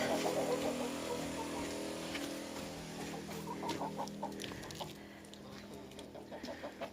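Several chickens cluck continuously in quick, overlapping bursts against a steady background hum, close by, with no talking.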